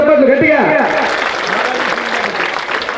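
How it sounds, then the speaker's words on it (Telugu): A voice trails off, then a crowd at a Vedadri Lakshmi Narasimha Swamy temple event breaks into loud, sustained applause, a dense wash of clapping that continues to the end. "అలాగే విద్యాసాగర్ సార్ గారి కోసం ఒకసారి చప్పట్లు గట్టిగా"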